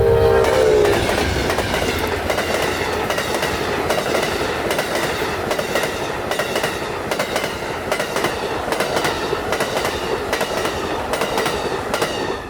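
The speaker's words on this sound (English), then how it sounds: "watch Amtrak 91 blast off from" Amtrak 91 passenger train pulling out of Tampa, a brief horn note at the start, then loud steady rumble and rhythmic clickety-clack of wheels over rail joints as the cars pass close by.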